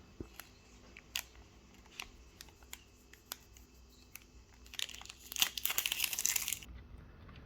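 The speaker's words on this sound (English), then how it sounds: "let's try and get this unwrapped and see what happens" Crinkling and tearing of plastic wrap being pulled off a spindle of Verbatim audio CD-R discs, close and fairly quiet, with scattered clicks and taps before a denser burst of crackling rustle toward the end.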